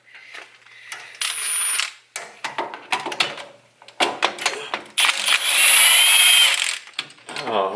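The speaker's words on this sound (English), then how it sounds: "For this I'm going to use an impact wrench" An impact wrench removes drive shaft bolts during a double cardan shaft install on an 80 Series Land Cruiser, with several sharp, loud rattling bursts separated by short pauses and metallic clinks.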